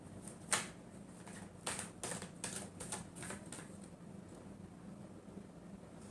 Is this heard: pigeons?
no